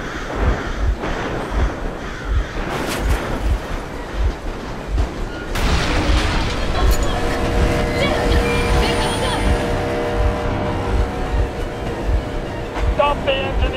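In Metro Exodus, a vehicle engine runs with a steady rumbling, train-like chug and a rhythmic low pulse throughout, rising into a louder mechanical roar midway, while voices talk over it.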